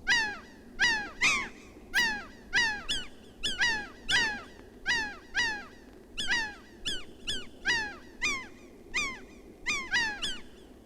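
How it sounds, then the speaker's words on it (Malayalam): Repeated bright, downward-sweeping bird chirps in quick rhythmic bursts, loud and close, over a low background hum. "അതൊരു കിളി ചിലച്ച ശബ്ദമാണ്"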